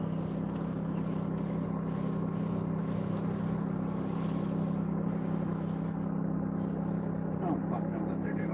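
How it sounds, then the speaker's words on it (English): Two motorboats with surface drives pass at low speed, a steady droning hum that carries across the water at moderate distance, faint under a voice speaking. "They're making a whole lot of noise for two boats that ain't going very fast."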